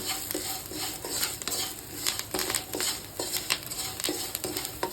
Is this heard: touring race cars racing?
no